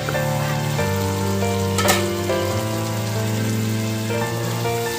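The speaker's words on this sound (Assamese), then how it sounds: "যিখিনি মই ফুলকবি আলু এনেদৰে কাটি থৈছিলোঁ সেইখিনি দি দিম। এইখিনি দি ভাল ধৰণে লৰাই দিম।" Cut cauliflower and potato pieces going into a pan with local meat for an Assamese curry and being stirred, giving a dense steady sizzle with a brief clatter partway through, under a sustained tonal hum and no talk.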